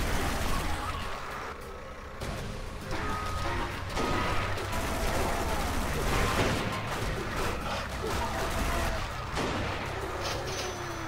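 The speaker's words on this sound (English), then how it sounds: "Must stop up for some machine gun action." Rapid machine gun fire from a vehicle in the Zombie Driver video game rattles in sustained bursts over rumbling engine noise and other game effects, fairly loud and dense throughout.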